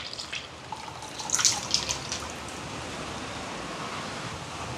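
Soaked tamarind water is poured into a simmering curry, a faint splash and a few drips over a steady low hiss, quiet and close.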